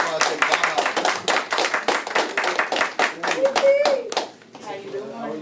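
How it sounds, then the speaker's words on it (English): A live show audience claps by hand, loud and brisk, in quick uneven bursts for about four seconds, with voices calling out over it before it tapers into talking. "please stand to your feet and give a round of applause for Miss Tiara Washington"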